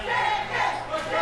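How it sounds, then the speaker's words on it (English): A wrestling crowd at a CPW Showdown indoor show jeers Jake Davis, a steady, diffuse roar of voices swelling and dipping throughout. "Oh, the crowd really getting on Jake Davis"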